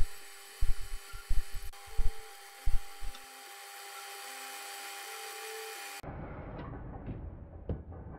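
A machine tool whirs steadily while cutting a metal workpiece for a spherical turning tool in two, with intermittent clunks early on, then the cut ends and quieter shop noises follow.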